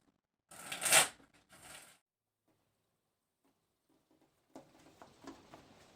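Tarot cards from the Lightseers Tarot deck being shuffled close by, a loud crisp riffle burst followed by a softer flutter, then quiet before scattered light card taps and rustles.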